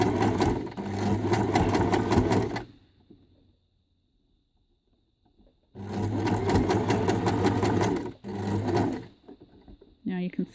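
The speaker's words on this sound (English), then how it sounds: "I'm just going to go back and sew that on" A sewing machine stitches fabric in loud, close bursts: a long run, a silent pause, then two more runs and a brief final start.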